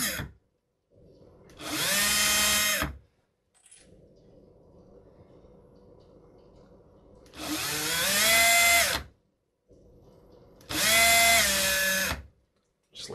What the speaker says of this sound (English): I'll still have my power drill with my 1mm bit